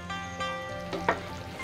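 Aloo kurma masala frying in a pan on the stove, a soft continuous sizzle with a brief stirring scrape near the end, heard close over a steady low hum.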